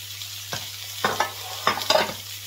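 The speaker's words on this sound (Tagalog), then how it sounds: "Gigisa natin ulit itong ating, itong ating onion." Onion sautés in olive oil in a pan: a low sizzle underneath a few quick, close stirring scrapes that come in short bursts, with no talking.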